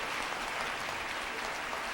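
Audience applause fills a short stretch as a steady, dense patter of clapping, moderately faint and even throughout, without a clear start or finish.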